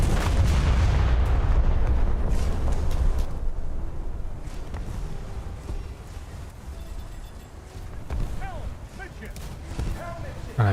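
Heavy 15-inch battleship guns firing in a naval warfare video game, one booming, rumbling blast at the start that rolls off into a long decaying echo, followed by softer distant thuds, with a voice talking over it.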